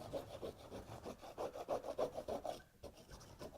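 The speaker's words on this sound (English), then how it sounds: "Then back to the scraping." A tool scraping across a vinyl-wrapped foam martial arts mat in steady rhythmic back-and-forth strokes, each a soft rasping rub, close but quiet, with a brief pause before the strokes resume.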